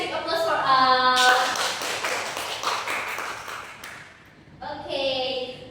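Students in a math class break into a short round of clapping, several seconds of dense hand claps that rise after a spoken line and die away before talk resumes.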